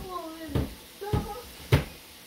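Cupboard in a home kitchen slammed shut three times in quick succession, sharp close knocks spaced about half a second apart, with a voice speaking between them.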